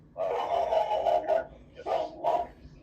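A dog gives two drawn-out, loud barks, the first longer than the second, heard close with a short pause between them.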